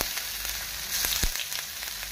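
Finely grated ginger hits hot oil in a pan, giving a steady close sizzle with a few soft spoon taps, no one speaking.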